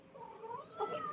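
A startled cat lets out a drawn-out, rising meow-like wail, moderately close and fairly quiet, ending with a sharper burst.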